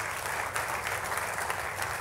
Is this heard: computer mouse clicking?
no